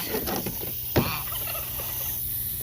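Turkeys in a pen gobble amid a dense, noisy background, with a sharp gobble standing out near the middle against continuous bird chatter.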